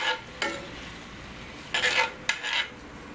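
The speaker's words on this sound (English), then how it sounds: "I'm going to saute all that up for a minute, just to get the veggies soft" Vegetables for lomo saltado sauté in a hot pan with a steady sizzle, broken by a few sharp scrapes and stirs of a utensil against the pan, close up with no talk.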